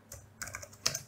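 Quick typing on a computer keyboard: a short burst of a few crisp key clicks in three small clusters, close and fairly quiet, with no speech.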